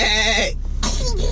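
A voice imitates a sheep's bleat with two short, close, wavering 'baa'-like cries separated by a brief pause, in a quiet indoor setting.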